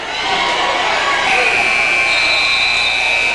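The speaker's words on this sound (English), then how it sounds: "Saved by the buzzer." Amid a noisy crowd at a high school wrestling match, a sustained electronic buzzer sounds partway through and holds steadily until the end.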